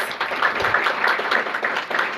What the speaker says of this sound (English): Let's give all three of our teams a big round of applause.